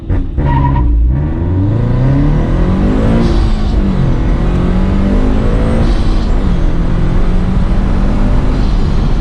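Supercharged Subaru BRZ launching on a 0–100 run, engine revving hard and climbing steadily through the gears with brief dips at each shift, loud and close from inside the car, with no talk.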